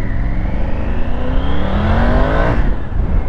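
Triumph Street motorcycle engine riding slowly through town, a steady loud exhaust drone that rises in pitch as it accelerates, then drops off abruptly as the throttle closes.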